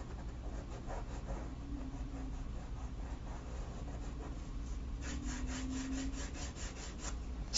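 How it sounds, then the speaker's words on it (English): A pencil eraser rubs steadily back and forth across paper on a black pencil drawing, making a soft continuous scrubbing sound up close with no voices. "So now I'm going to work a little bit on this with my eraser."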